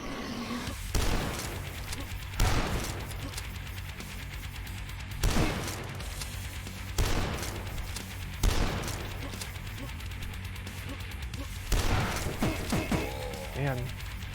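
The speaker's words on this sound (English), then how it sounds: "Let's see how the super shotgun fares." A super shotgun in the Dusk video game fires repeatedly, each loud booming blast spaced about two seconds apart, amid game noise and scattered hits.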